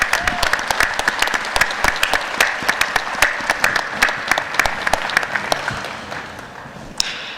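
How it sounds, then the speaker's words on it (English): Audience applause for conference sponsors at a closing session, a dense, steady clapping from a large crowd that holds for several seconds and then thins out near the end. "Please join me in a round of applause to show our appreciation to our outstanding"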